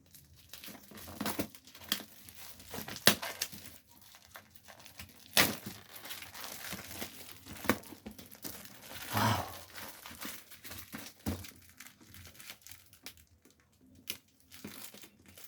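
Close, quiet crinkling and tearing of plastic packaging cut open with a blade around a GoPro Hero 12, irregular crackles and rustles with a few sharper snaps.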